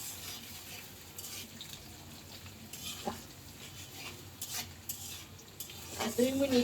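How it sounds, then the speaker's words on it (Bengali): Ginger paste fries in oil with a soft, uneven sizzle, punctuated by stirring scrapes and light clinks of a utensil against the pan. "আর 2 মিনিট তেলের সাথে আদা বাটাটা ভেজে"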